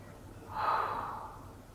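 A single soft, breathy exhale during a stretching exercise swells and fades over about a second, quiet and close against a low background hum.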